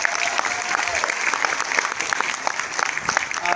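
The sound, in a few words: audience applause for the play's writer-director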